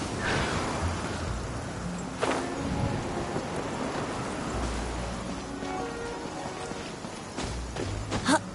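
Rain falls steadily in the Genshin Impact game world, with a broad wash of drops and low rumbles of thunder rolling beneath it, plus a few sharper crackles near the start and the end.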